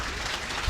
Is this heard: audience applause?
yes